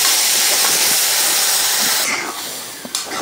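Water poured onto hot roasted flour and sugar with cardamom gives a loud, sustained steaming hiss that tapers off after about two seconds into a quieter sizzle.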